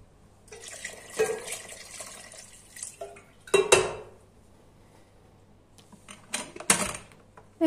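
Hot water is poured over marrow bones in a cooking pot for bone broth, giving a few short splashing gushes with clinks of metal between quieter stretches.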